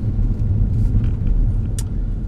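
Inside a BMW X5 40d twin turbo seven-seater on the move, a low, steady road and engine rumble fills the cabin, with a few faint brief hisses and no talking.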